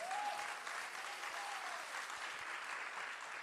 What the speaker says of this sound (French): Put your hands together to Jesus.